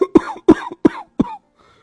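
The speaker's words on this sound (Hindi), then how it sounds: "तभी खटिये पर से बूढ़ा रामा खांसते" An old man lying on a cot coughs four times in quick succession, loud and close, each cough a harsh bark followed by a short rasping tail, then stops.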